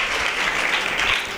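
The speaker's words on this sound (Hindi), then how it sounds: "की जलाल के लिए जोरदार तालियां।" Loud audience applause at a children's conference, a dense continuous wash of clapping from a large crowd, brief and unbroken.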